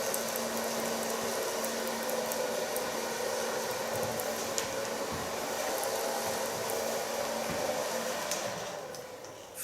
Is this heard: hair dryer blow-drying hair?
yes